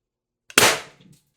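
A Beeman BP50 air pistol fires a 1.2 g solid nylon precision ball bearing: one sharp, close crack with a brief tail and a faint clatter after.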